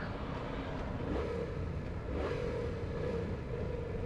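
A 2019 Yamaha MT-07 motorcycle engine drones steadily while riding, a continuous mid-level rumble with a faint tonal hum that swells slightly at moments, with wind rush around it.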